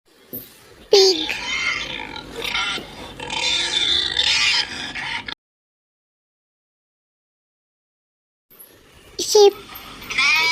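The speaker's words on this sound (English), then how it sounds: "pig" A pig grunts and squeals in a dense, noisy burst lasting several seconds, close and loud, then falls silent before a short squeal at the end.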